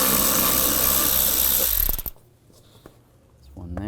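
Ratchet and 5.5mm socket backing screws out of a blower motor resistor on a 2007-2013 Chevrolet Silverado: a loud dense clatter for about two seconds, then quieter scattered clicks and handling noises.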